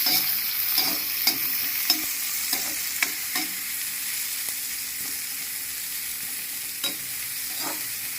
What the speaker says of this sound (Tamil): கொஞ்சம் வதக்கலாம். வெங்காயம் வதங்கட்டும்.